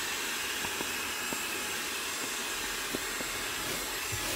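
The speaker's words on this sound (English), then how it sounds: "The suction power is amazing with this hoover." Xiaomi Mijia portable car vacuum cleaner running, a steady loud airy whine and hiss of suction with faint intermittent clicks and no speech.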